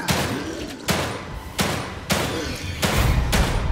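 Video game gunfire in The Evil Within 2, a run of heavy shots about every three-quarters of a second over a dense, noisy game soundscape.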